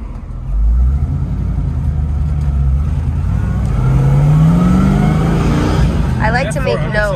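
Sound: 1974 Pontiac Firebird Formula Ram Air being driven

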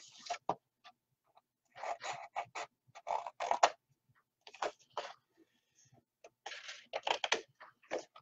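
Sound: cutting away paper along a score line

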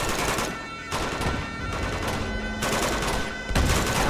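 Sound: gunfire in Uncharted 2 video game

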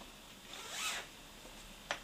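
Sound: zipper of a jumpsuit being opened

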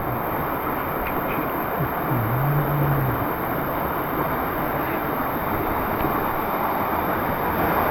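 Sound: waterfall rushing

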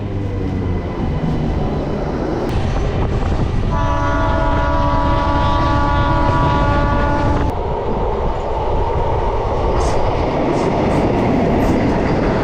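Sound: Jaleswar MEMU local train arriving at station

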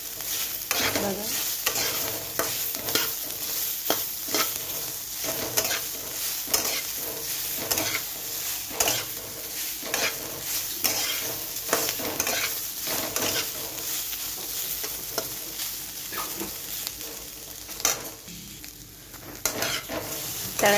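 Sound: frying food in a little oil

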